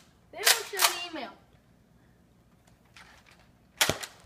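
A Nerf blaster fires darts, giving a sharp, loud snap near the end after a pair of quieter pops and a short voiced sound at the start, with near-silence in between.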